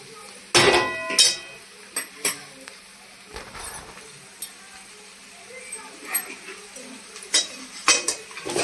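A spoon scrapes and clinks against a pan while bread pulao is stirred, making scattered irregular knocks and scrapes, close but fairly soft, with quiet gaps between them.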